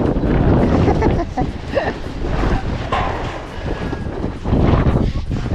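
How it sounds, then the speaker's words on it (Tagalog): Steady, loud wind buffets the microphone in a continuous roar, with faint voices in the background, at a construction site during a second-floor concrete slab pour. "Hangin."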